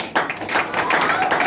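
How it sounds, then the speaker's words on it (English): A church congregation claps during a sermon, a brief burst of uneven hand claps that swells and holds, close and moderately loud, with voices mixed in. "Clap for yourself."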